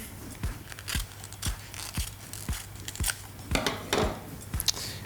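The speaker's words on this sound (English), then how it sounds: "So now at cutting of the banana leaf, I'll take 1 section, cut it off" Banana leaf sliced into sections with scissors: about ten crisp, evenly spaced snips, each a sharp close click with a faint papery rustle between cuts.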